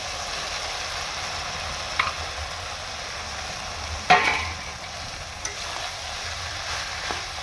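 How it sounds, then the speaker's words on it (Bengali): Figs and potatoes, already fried, are stirred through hot oil in a pan, a low steady sizzle beneath a few sharp scraping knocks of the spoon, with no voices. "এবার আমি ঢেলে দেবো ডুমুর আর আলুটা যে ভেজে রেখে দিয়েছি এটা ঢেলে দেবো"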